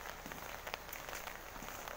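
Steady, faint rain patters on a surface with scattered drops ticking through a constant hiss, no voices, during nonstop rain.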